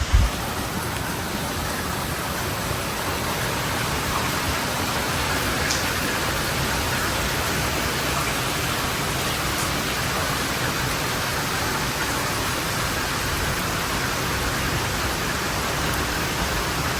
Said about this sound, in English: it's rainy today. It is rainy season here in Samoa.